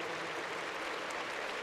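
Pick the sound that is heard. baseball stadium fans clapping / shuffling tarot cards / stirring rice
baseball stadium fans clapping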